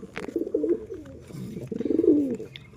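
Mataj pigeons, a newly paired male and female, cooing close by in two long rolling bouts with short pauses and a few faint chirps, with no speech over them.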